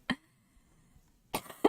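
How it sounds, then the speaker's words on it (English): A person with a lingering sore throat gives two sharp, separate coughs, the first brief and the second a heavier burst, close to the mic in an otherwise quiet room. "I can't seem to shake this cough."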